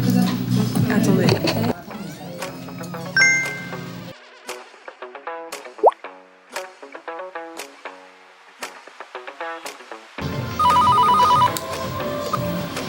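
A telephone rings with a loud electronic ringtone in a busy thrift shop, bursts at the start and again near the end, with people talking in between.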